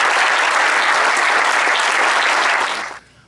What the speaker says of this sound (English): I want to start my remarks with a round of applause for this group.